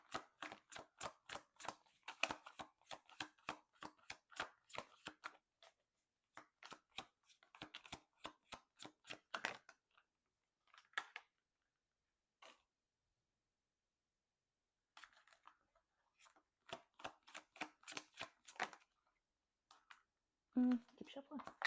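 Tarot cards are riffled and shuffled in quick repeated bursts, crisp and close, separated by short pauses.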